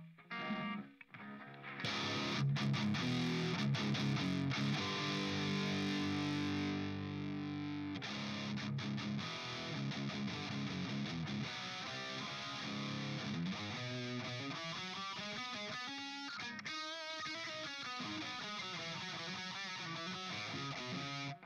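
A distorted electric guitar plays chords and then busier single-note lines through a Positive Grid BIAS Amp 2 preset, with a saturated, amp-like tone that stays loud and continuous throughout.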